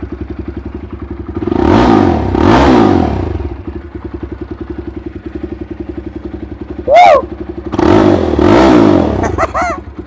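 A Jawa 42 or Jawa Bobber motorcycle engine idles with a throbbing rumble, then revs up and down several times, loud and close, with a brief higher tone midway.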